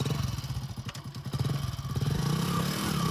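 A motorcycle being ridden, its engine giving a close, rapid, pulsing throb that grows steadier and slightly louder as it goes, with faint rattles and no talking.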